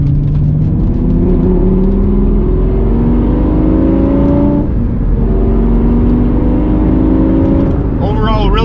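A 2004 Lamborghini Gallardo engine drones steadily while driving, with rising and falling revs through downshifts and gear changes, loud and close inside the cabin, with talking over it.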